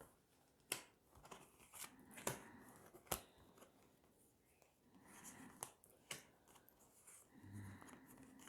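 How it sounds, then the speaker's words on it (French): Tarot cards drawn and handled from a deck during a French reading, soft shuffles and sharp flicks and snaps of card stock at irregular intervals, close and quiet, with faint background murmur. "on va prendre 13 cartes"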